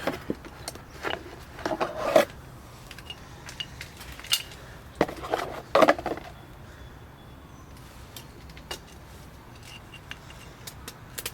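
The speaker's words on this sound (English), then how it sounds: "Now I can install the new brake pads." New front brake pads going into a 2001 Ford Explorer caliper bracket, close irregular metallic scrapes, clicks and rubbing clatters in scattered bursts with quieter handling between.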